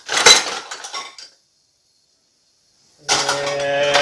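Utensils clattering and clinking as someone rummages through a kitchen drawer for a wooden spoon, a busy burst of metallic rattling that stops, then after a pause resumes as steady clatter with a low hum.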